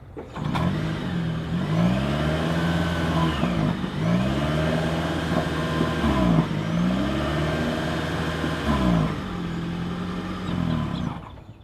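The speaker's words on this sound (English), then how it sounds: "As always, here is that exhaust clip." Exhaust of a 2026 Toyota Corolla Hybrid AWD revved from the rear, with four repeated rising-and-falling engine rev cycles over a steady mid-pitched drone, close and fairly loud with no talking.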